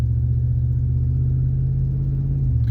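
A car with an automatic transmission making its 1-2 gear shift: a steady low engine drone and rumble under load that holds, then changes pitch slightly near the end, heard up close with no talk.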